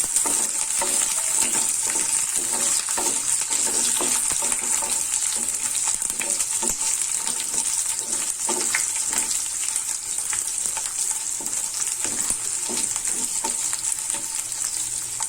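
Garlic sautéing in a pan for poondu kulambu: a loud, continuous sizzle with frequent rhythmic scrapes and taps of a stirring spoon, and no talking.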